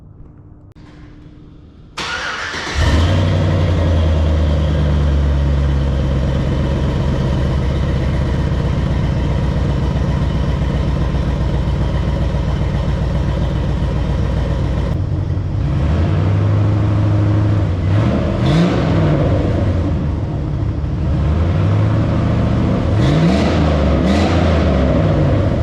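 A Cateye truck engine fires up after a couple of seconds of quiet, then settles into a loud, close, steady rumble before a series of sharp revs late on that rise and fall several times.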